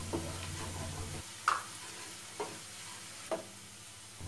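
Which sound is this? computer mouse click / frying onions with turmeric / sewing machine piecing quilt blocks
frying onions with turmeric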